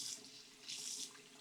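Water splashes onto a motion sensor ceiling light rated IP54 in two soft hissing bursts, close and fairly quiet, with no voices.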